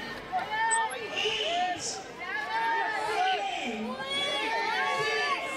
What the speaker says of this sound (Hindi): भाई बहुत भीड़ हो चुकी है यहाँ पे